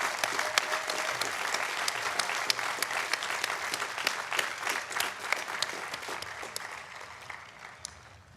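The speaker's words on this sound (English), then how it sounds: "Please join me in giving a round of applause again for this exceptional accomplishment for this extraordinary group of students." Sustained, dense applause from a large commencement audience at Ithaca College honoring cum laude graduates, steady for several seconds before gradually thinning out.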